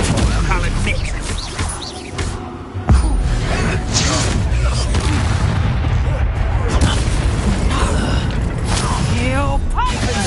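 Confringo spell blasts in the video game Hogwarts Legacy hit as loud, close booms and crashing impacts over a thick mechanical rumble, with a voice partly buried beneath the noise.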